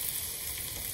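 Constant crackling sizzle of chicken frying in hot oil in a pot on a stovetop, close and even, with no other sounds.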